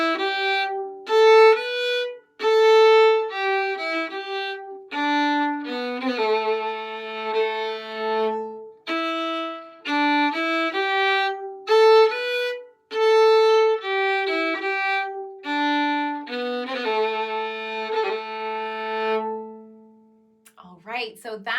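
Solo fiddle plays part of the A part of the Scottish strathspey Highlander's Farewell, with clipped, bowed notes in a snappy dotted rhythm, ornamented with neighbor-note turns, close and clear, with no talking.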